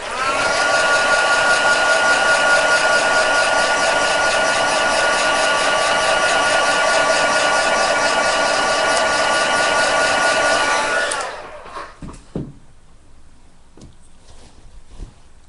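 A hair dryer blows on wet acrylic paint: a loud, steady, close whirring hum that runs for about eleven seconds, then cuts off abruptly, leaving quiet room sound with a few faint knocks.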